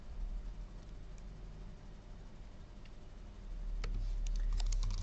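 Quiet keystrokes as a password is typed on a computer keyboard, soft scattered clicks with a short quick cluster near the end over steady low background noise.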